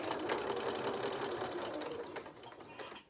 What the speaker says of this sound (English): A couple of stitches forward, a couple of stitches back.